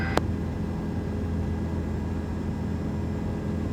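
Helicopter near a highway landing zone for a medical air ambulance, a steady broad rotor and engine rumble heard from a distance, continuous and even, with two sharp clicks at the edges.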